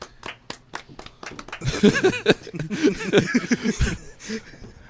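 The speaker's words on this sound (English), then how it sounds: "Clap it up for Demarkcus." A few scattered claps build into lively applause from a small group, mixed with cheering voices and laughter, then taper off.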